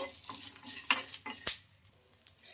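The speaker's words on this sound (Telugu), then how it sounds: "ఇలా వేగుతుండగానే ఒక గుప్పెడు కరివేపాకు అయితే వేసుకోవాలి ఈ కరివేపాకుని కూడా బాగా ఫ్రై చేసుకోవాలి" Peanuts, chillies and curry leaves fry in a pan, a soft sizzle under repeated scraping stirs and metallic clinks of a utensil against the pan, close and fairly quiet.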